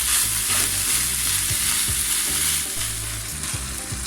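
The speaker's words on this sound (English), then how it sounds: "we're just going to stir it through and let that fry" Minced beef and pork sizzle steadily in a hot pan, with a utensil stirring through the meat in repeated scraping, knocking strokes; close and loud, no voices.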